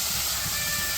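Turmeric powder hits hot oil with fried onions in a village kitchen pan, giving a steady, bright, close sizzling hiss that holds evenly for a second.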